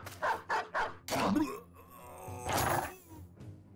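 A dog in the video game Battle Brothers barks several times in a quick burst, then growls and lets out a longer snarling yelp, loud and close against a quiet background.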